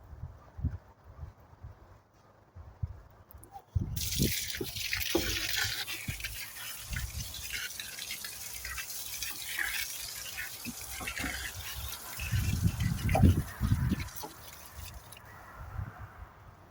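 Water poured over compost materials in a garden bin, a sustained splashing pour that starts suddenly and runs steadily for about ten seconds, with heavier gurgling splashes near the end before fading.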